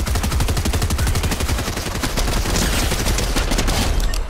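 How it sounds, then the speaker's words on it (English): Rapid, sustained gunfire in the video game Fortnite, dense bursts of automatic shots that run without a break, loud and close, with no talking over them. "Somebody's shooting me."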